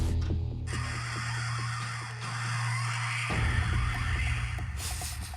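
An electronic shark repellent gadget plays a recorded killer whale call: a buzzy, steady electronic drone with a thin whistling upper tone that shifts partway through, fairly loud and with no voices over it.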